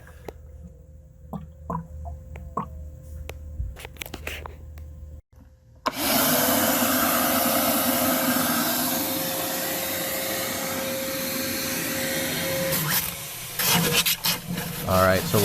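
A Craftsman wet/dry vac starts after some clattering and handling noises and then roars steadily while cleaning out a pool filter, with brief rubbing and knocking near the end and a voice heard only briefly.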